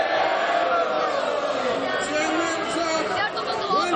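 A large crowd at a political rally in Karachi chants slogans, a dense, loud, continuous roar of many voices throughout.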